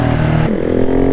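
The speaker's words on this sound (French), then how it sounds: "Je pense qu'on doit l'entendre un peu japper la moto quand même." A 2020 KTM 690 SMCR supermoto with a full exhaust line barks loudly up close, a sharp rev that drops quickly into a throbbing single-cylinder idle.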